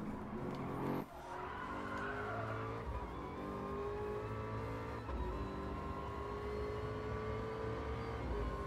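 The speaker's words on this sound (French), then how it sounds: "Ah, et toujours ce son si magnifique de cette Ford GT" A red Ford GT race car in Gran Turismo Sport, its engine holding a steady loud drone throughout with a brief tire squeal or skid near the start, then continuous engine tone.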